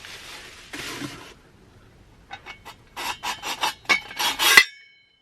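A stainless steel coffee press is pulled apart and handled, giving a few scraping rubs and then a rapid run of short metallic rasps ending in a sharp ringing clink, close by with no talk.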